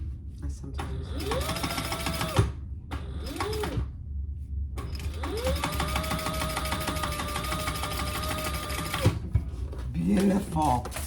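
A sewing machine stitches a laptop bag in several bursts of fast mechanical whirring, separated by short pauses, close and clear, with some speech over it.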